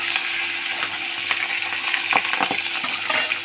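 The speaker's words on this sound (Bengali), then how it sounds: "প্রথমেই আমি পাবদা মাছগুলো ভেজে নেব" Pabda fish sizzle and crackle in hot oil in a pan, a dense, continuous frying hiss close up, with scattered sharper pops and spatters throughout.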